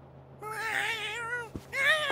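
A cat in the video game South Park: The Fractured But Whole meows twice, drawn-out and close, with a brief soft thump between the calls and no talking.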